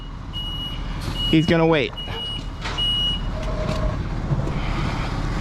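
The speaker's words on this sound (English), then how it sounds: "get out of the vac truck's way" A vacuum truck reversing at a remediation job site, its backup alarm sounding steady repeated high beeps over engine rumble, with someone speaking briefly in the middle.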